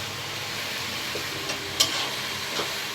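Chichinga, a snake gourd, stir-fries in a pan with added red lentils, giving a soft constant sizzle with a few light scraping stirs and one sharper clink.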